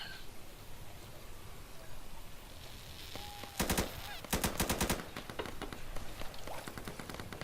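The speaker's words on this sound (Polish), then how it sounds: "Krótka seryjka puszczona." Short bursts of automatic gunfire in the Insurgency shooter game: one brief volley followed by a longer rapid string of shots, sharp and fairly close over a faint background din.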